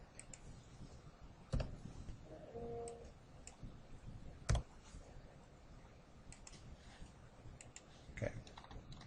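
A few sharp, isolated mouse clicks sound close and quiet while working in structural roof-framing design software, spaced several seconds apart over a faint room hush.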